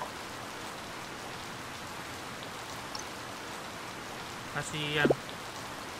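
Steady soft rain patters through the Harvest Moon Light of Hope game world, a continuous hiss from start to end, with a brief spoken word and a few game chimes near the end.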